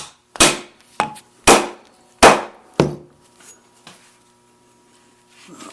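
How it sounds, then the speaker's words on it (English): Hammer pounding a leather burnishing tool on a post set on a 4x4, five sharp loud whacks at an uneven pace, each ringing briefly before fading, followed by a couple of faint knocks. "Make sure you're pounding on a solid surface."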